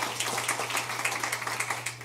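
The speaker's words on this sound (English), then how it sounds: "so round of applause" Faint, distant applause from a conference audience during a planetarium association business meeting, a soft patter of many hands over a low steady hum.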